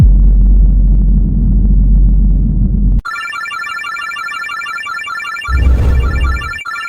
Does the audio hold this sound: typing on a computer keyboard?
no